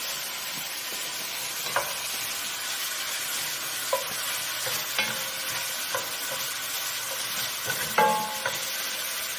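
Two cloves of garlic sizzling in a hot pan, a constant close crackle with scattered stirring clinks and scrapes, no voices over it.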